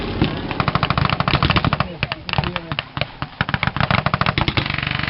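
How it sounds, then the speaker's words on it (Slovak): Onboard aircraft cannons from a 1944 Ukraine wartime aerial attack fire in rapid, hammering bursts over a droning engine, loud and close, with short pauses between volleys. "Kombinované so strelbou palubných kanónov."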